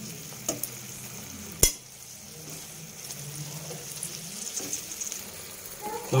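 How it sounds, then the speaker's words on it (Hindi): Masala with ginger-garlic paste for matar paneer fries quietly in a pan, giving a faint steady sizzle with occasional stirring scrapes and one sharp utensil knock near the start, with no talking. "फ्राई कर लेना है।"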